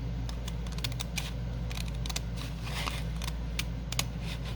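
Scissors snipping out the window of a junk mail envelope make a string of small, crisp cuts at an irregular pace, close and fairly quiet over a low background hum.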